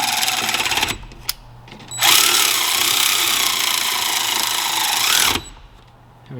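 A power tool lightly runs bolts in on an 1982 vehicle: a short whir, a brief click, then a longer steady buzzing burst before stopping.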